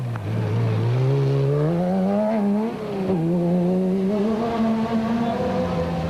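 Special vehicle category race cars set off in pursuit of a Jeep at the Sugarbelt 400 desert race, engine note climbing and shifting steadily through several gear changes, loud and close with no talk over it.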